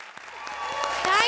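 Studio audience on a Hindi comedy show breaks into applause, the clapping building quickly from scattered claps to a fuller burst within a second, with some voice mixed in.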